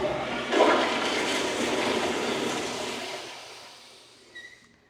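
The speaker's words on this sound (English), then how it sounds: "just give it one more flush." A household toilet flushes during cleaning, a loud close rush of water that holds steady for a few seconds, then drains away and tapers off with a faint gurgle at the end.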